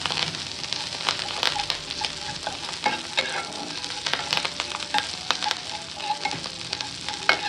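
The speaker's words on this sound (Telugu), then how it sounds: "ఇప్పుడు ఇవంతా కూడా ఒకసారి బాగా కలుపుకుని కరివేపాకు క్రిస్పీగా ఫ్రై అవనివ్వాలి" Curry leaves frying crisp in hot oil for an aloo rava mixture, giving a steady close sizzle with scattered sharp crackles and pops throughout.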